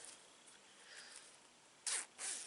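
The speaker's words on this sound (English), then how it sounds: "So I have my zipper right here." An invisible dress zipper is handled while sewing, giving two short, bright zipping rasps close to the microphone near the end, after a quiet stretch of faint rustling.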